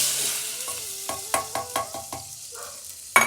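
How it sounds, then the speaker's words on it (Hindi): Tadka for arhar dal crackles in hot oil in a home kitchen, a steady sizzle punctuated by several sharp pops and spoon clinks against the pan, ending with a loud clack. "दाल में तड़का लगा रही थी"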